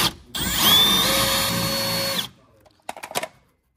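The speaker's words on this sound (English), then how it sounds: "take this drill, stick it in this little hole right here, and we gonna make the little hole bigger" A power drill bores out a small hole in a car brake part, whining loud and close for about two seconds with a rising pitch, then stopping, followed by a few clinks.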